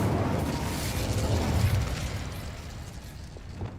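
The Incendio fire spell is cast in Hogwarts Legacy, giving a muffled, rumbling whoosh of flame that swells briefly and then fades over a few seconds.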